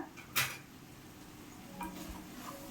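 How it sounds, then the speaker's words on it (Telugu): Spicy goat head meat curry being stirred in a pan, one sharp scrape of the spoon followed by a softer one over a faint sizzle, close and quiet. "ఒకసారి కలుపుకుందాం"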